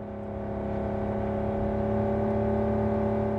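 A car accelerates steadily away in Cyberpunk 2077, its engine holding a loud, even drone with a faint rising whir over a few seconds, no voices over it.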